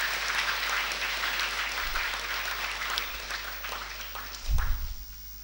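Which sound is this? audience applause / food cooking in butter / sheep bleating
audience applause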